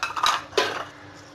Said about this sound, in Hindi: और इसको भी खूब अच्छे से मिक्स कर लेंगे